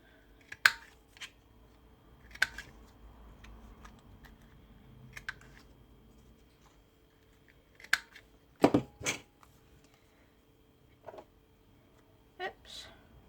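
Scissors rounding the corners of a handmade vintage charm, a few sharp, separate snips spaced out over a quiet background with small handling rustles between cuts.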